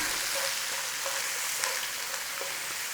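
Diced onion fries in a pan with cumin seeds for palak paneer, a steady dense sizzle with faint crackles and small pops running throughout, close and even, no voices.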